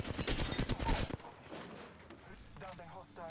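Bursts of enemy gunfire in the Apex Legends battle royale shooter, a dense rapid volley at the start, then scattered quieter shots and game sounds with in-game voice lines over the action.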